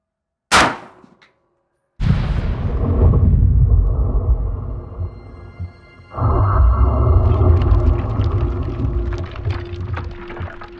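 A 6.8x51 next-gen rifle fires a single sharp, loud report close by, followed moments later by a heavy booming blast and a long rolling rumble that fades out, then swells again into a noisy echoing tail.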